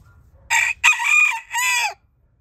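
A rooster crows nearby, one loud clear cock-a-doodle-doo in three bursts rising and falling over about one and a half seconds, then silence.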